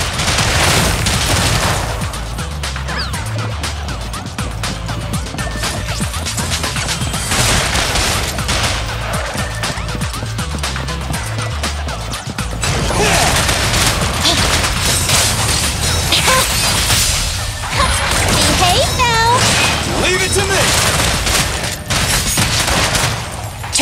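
Gunfire in the action game Zenless Zone Zero: dense rapid volleys of shots and impacts crash together with booms and smashes, loud and almost nonstop, while character voices call out over the combat.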